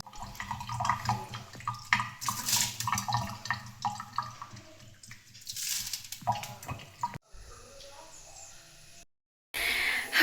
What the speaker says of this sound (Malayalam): അപ്പോൾ ഇതാ വല്യമ്മ ഗോതമ്പ് കഴുകുന്നുണ്ട്.